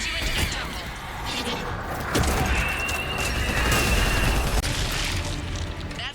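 Missile explosions from air support in the video game Mass Effect 3, a dense barrage of booming blasts and crashes that swells louder around the midpoint and rumbles on continuously, with battle noise layered underneath.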